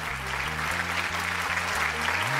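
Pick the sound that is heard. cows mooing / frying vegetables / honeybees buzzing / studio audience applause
studio audience applause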